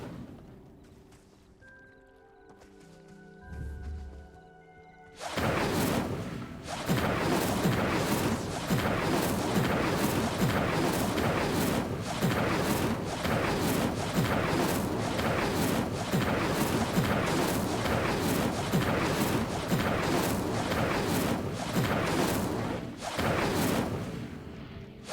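After a quiet stretch of faint music, a sustained roaring burst of conjured fire from the Incendio spell engulfs ritual pyres in Hogwarts Legacy, loud and crackling with steady pulses for about eighteen seconds before cutting back down.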